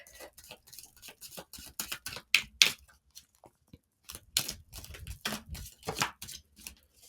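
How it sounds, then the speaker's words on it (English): Playing cards being shuffled by hand in a quiet room, a series of short crisp riffling and snapping bursts in two clusters separated by a brief pause, close and fairly soft. "It's just a little bit harder to shuffle these cards."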